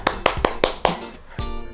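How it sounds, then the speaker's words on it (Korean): A small group claps together, giving five quick sharp claps in an even rhythm at a hospital channel's celebration of reaching 50,000 subscribers. A sustained tonal sound follows the claps. "박수!"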